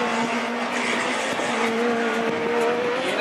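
A Citroën C2 race car on its last lap in a racing event, a sustained engine drone with a steady tone and rising pitch toward the end, fairly loud and near, with no talk heard.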